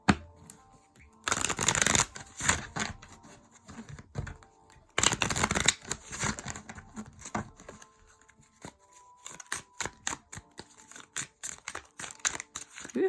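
A deck of tarot cards being shuffled and drawn, with two long rapid riffling bursts followed by scattered soft snaps and flicks of single cards, close and fairly quiet.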